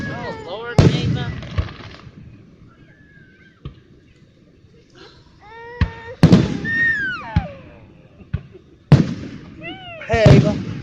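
Fireworks explode in a string of sharp booms and crackling bursts, some near and loud, others fainter, with whistling rises between them and people talking and cheering over the blasts.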